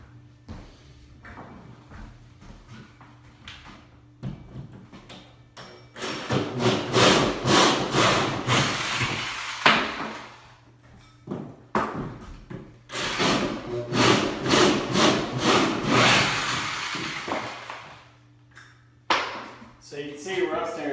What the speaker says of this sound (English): You see how quick that goes on cutting holes anyway.